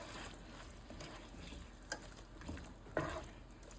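Minced garlic is stirred through butter in a pan for a lobster dinner, giving a soft, quiet sizzle with a few light clicks and scrapes of the utensil.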